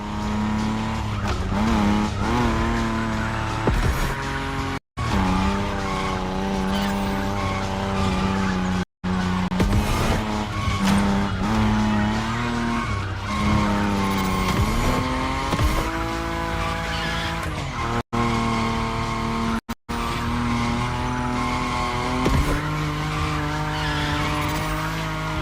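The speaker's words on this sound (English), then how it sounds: "Your Nismo is powerful enough to slide along on its own when you're at high speed" A Nissan Nismo in The Crew Motorfest slides at high speed, its tires squealing in long, sustained wails over a steady engine roar, with brief gaps and no talking.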